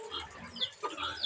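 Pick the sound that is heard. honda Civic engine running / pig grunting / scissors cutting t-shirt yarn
pig grunting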